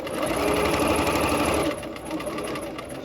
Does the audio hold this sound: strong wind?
no